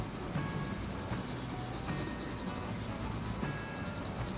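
Number 2 pencil drawing an anemone flower on paper, heard as soft, continuous scratchy strokes close up, faint and steady and without talk.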